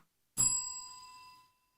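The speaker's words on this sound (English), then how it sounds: "Ring the bell." A single bell struck once, a sharp metallic strike followed by a clear ringing tone that decays over about a second into silence, heard alone.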